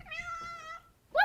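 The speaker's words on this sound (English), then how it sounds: "he's meowing because he wants to go outside" A pet cat meows once, a long drawn-out cry close by indoors, and a brief bright sound follows after a short pause.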